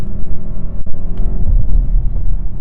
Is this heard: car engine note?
yes